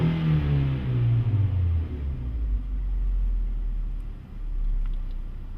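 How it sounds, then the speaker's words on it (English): Car engine revving under a wide open throttle test, with pitch climbing in a smooth sweep and then dropping back to idle rumble, steady and fairly loud with a second rise near the end. "I'm going to give it a quick wide open throttle test."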